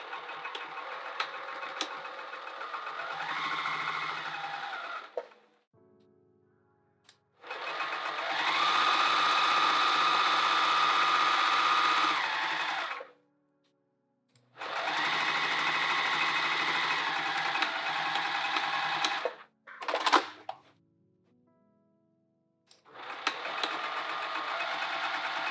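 A sewing machine stitches the sides and bottom of a handbag in four or five separate bursts, each a few seconds long, separated by brief quiet gaps; close and fairly loud, no voices.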